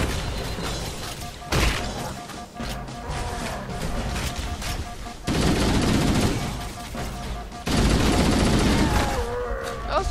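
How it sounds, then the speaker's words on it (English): Gunfire from the video game Halo: Combat Evolved, heavy bursts of rapid automatic shooting that come in loud waves with brief lulls between them, while players talk over the din. "Oh, stop shooting me!"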